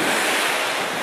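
Ocean surf on Varadero beach in the Caribbean, a continuous loud wash of breaking waves with wind rushing across the microphone, no voices.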